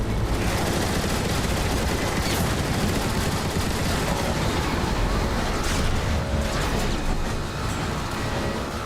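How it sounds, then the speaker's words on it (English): Dense, continuous turret gunfire in Transformers: War for Cybertron, a loud unbroken roar of rapid shots and explosions that stays steady and heavy throughout. "Decepticons, man the turrets and blast that obsolete Hulk out of the sky!"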